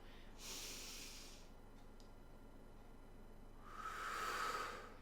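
A deep breath drawn in and later let out during a guided breathing exercise: two soft, close airy rushes separated by a quiet pause, faint and alone with no talking.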